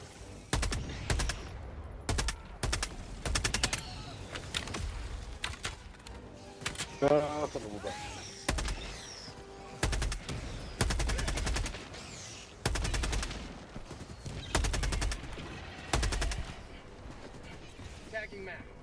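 Video game gunfire sounds in repeated rapid bursts and dense volleys with mechanical clatter. It stays loud and continuous, and the odd pause breaks it up.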